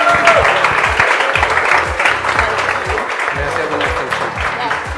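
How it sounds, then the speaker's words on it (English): Applause fills the room at a startup demo day, a loud, dense clapping crowd that goes on steadily throughout, with some voices mixed in. "So please, a round of applause"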